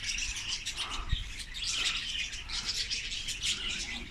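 A flock of budgerigars at Leipzig Zoo in cold weather chirps busily, with dense overlapping high twitters and chatter continuing throughout, fairly close and lively.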